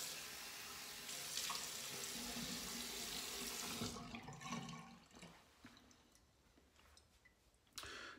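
Tap water runs into a sink for about four seconds as a face is wetted before shaving with a Simpson shaving brush, a steady close splash that then breaks into scattered drips and handling noises.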